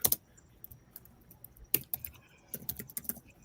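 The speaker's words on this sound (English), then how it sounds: "my typing's got really slow" Rapid, uneven clicks of a computer keyboard being typed on, close and fairly quiet, in short bursts separated by brief pauses, with no one talking.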